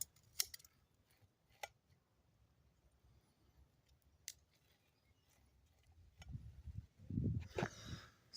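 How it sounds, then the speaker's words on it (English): Corn kernels are cut off the cob during outdoor cooking over coals. A few sharp, isolated clicks and ticks come first, then a denser run of close scraping, crunching cuts near the end. "I think I want to cut my corn off of this cob."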